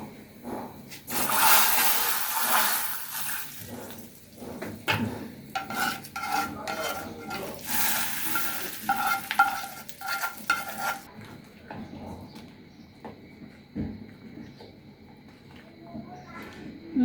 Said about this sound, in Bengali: মশলাটা ভাজা হয়ে গিয়েছে। এখন ডালের ভিতর ঢেলে দিব।